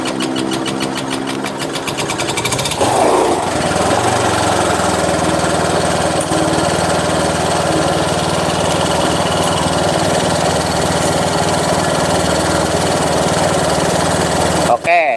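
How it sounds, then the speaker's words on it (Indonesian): A Honda Vario motorcycle engine starts and settles into a steady, loud idle that runs close up without a break, with only a short clatter near the end and no talk over it. "sekarang kita coba hidupin ini motor, bisa hidup apa enggak sih?"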